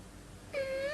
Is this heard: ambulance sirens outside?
no